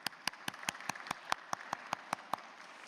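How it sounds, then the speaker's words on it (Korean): Steady, evenly spaced handclaps in a church, about a dozen sharp claps in a regular rhythm, fairly faint and without voices. "그리고 박수도 보내주셨으면 좋겠어요."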